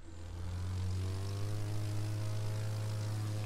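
Propeller plane engine in The Crew 2 racing game, a steady loud droning hum with rising tonal harmonics as the aircraft flies at low altitude, heard alone.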